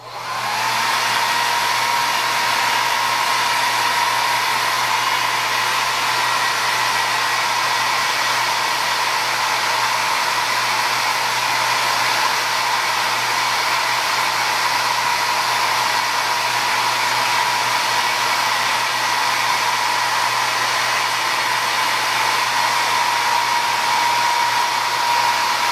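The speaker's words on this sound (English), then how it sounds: "So I'm going to turn on the air dryer for just a minute, so watch your sound." A hair dryer runs steadily and loudly for the whole stretch, used on a wood carving for an Uncle Sam bolo tie, giving a constant broadband whoosh with a steady whine and no pauses or talk.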